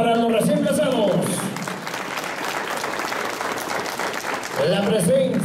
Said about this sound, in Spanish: voy a solicitar un fortísimo voto de aplauso para los recién casados